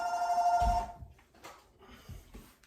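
A telephone rings with a steady electronic trill over the first second, loud and close, then stops, leaving faint room noise and brief low thumps.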